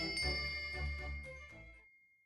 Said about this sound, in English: Yes, it's a bell cord. I can't resist.